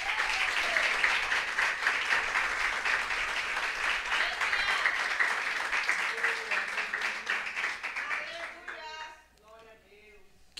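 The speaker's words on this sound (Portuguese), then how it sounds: "Dá uma salva de palmas para Jesus." A church congregation applauds during a worship service, steady loud clapping that gradually thins out and fades toward the end as a voice begins speaking.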